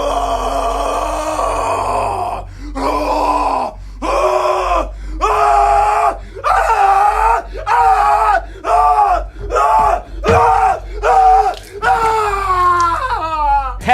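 Repeated screaming and anguished yelling from a man in a horror movie scene, a series of loud, drawn-out cries separated by short breaths over a low droning backdrop, ending in shuddering wails.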